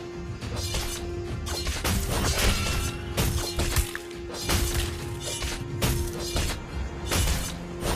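A turret being destroyed in the Mobile Legends game: dense bursts of shattering, crashing impacts repeat in fast succession over a steady tonal drone and busy battle noise.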